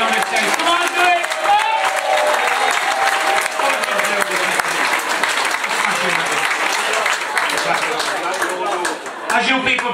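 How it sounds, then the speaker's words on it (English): Loud, sustained applause and cheering from an audience at a singing contest final in a Blackpool hotel venue, dense clapping filling the whole stretch with voices mixed in. "Can I have a great round of applause for everybody who's been on this stage?"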